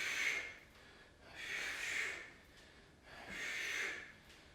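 Forceful exhalations during squat exercise, three long breathy outward blows spaced roughly evenly, close and fairly quiet with near silence between them.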